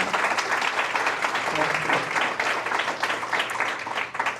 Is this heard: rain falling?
no